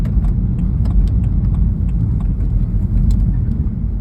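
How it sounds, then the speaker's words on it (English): A car driving home from the gym fills the clip with a steady low road and engine rumble from inside the cabin, with faint light rattles over it and no talk. "I am currently driving home"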